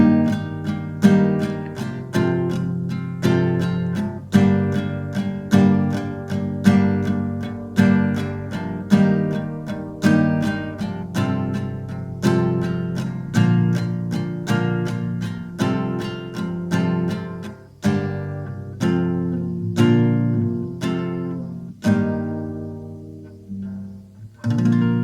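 Acoustic guitar strumming the chorus chords of a song in a steady rhythmic pattern, close and full, slowing into a few single ringing strums that fade at the end, with no voices.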